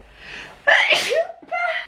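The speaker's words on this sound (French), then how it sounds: "je vais éternuer" A single sharp sneeze with a drawn-in breath beforehand and a short voiced tail after, close and loud.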